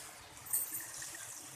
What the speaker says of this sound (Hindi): अब इसमें पानी डाल देंगे ताकि हमारी चिकन गल जाए।